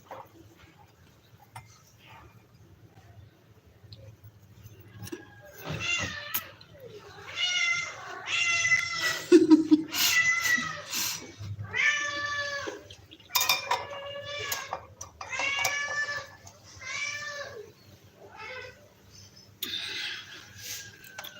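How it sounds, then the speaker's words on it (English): A cat meows close by, again and again, in drawn-out calls spread over about fifteen seconds. Quiet clinks of dishes and cutlery come and go in the background. "I'll show you my cat"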